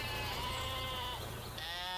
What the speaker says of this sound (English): Look at those sheep. They're jumping.